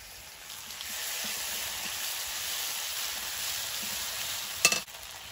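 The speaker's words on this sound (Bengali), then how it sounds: "তেলের মধ্যে দিয়ে দেবো কালো জিরে আর 2-3টে তেজপাতা, আদা কোরা, সর্ষে পোস্ত বাটাটা দিয়ে দেবো।" Black cumin, two or three bay leaves, grated ginger and mustard-poppy paste fry in hot oil, a steady close sizzle throughout, ending in a sharp clatter as a utensil strikes the pan.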